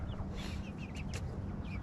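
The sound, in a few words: rooster clucking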